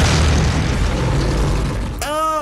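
A missile strike on a coastline in a monster movie produces a loud, deep rumbling boom. It rolls on for about two seconds before cutting abruptly to a different sound.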